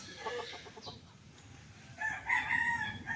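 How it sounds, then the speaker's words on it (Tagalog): Chickens cluck in quick bursts in a farm yard crowded with birds, then a rooster crows clearly and fairly close, standing out over the soft clucking. "So daming manok mga farmers"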